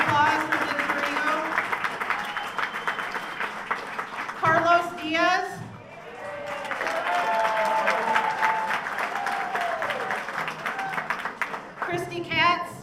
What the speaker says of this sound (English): Big round of applause for Vince Arrigo.